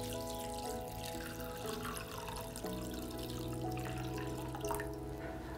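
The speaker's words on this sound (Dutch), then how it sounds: "dan vul je de schaal met water" Water pours steadily from a tap into a flower bowl fitted with chicken wire for an arrangement of ranunculus and anemones, a continuous moderate running and filling sound with a faint tonal ring.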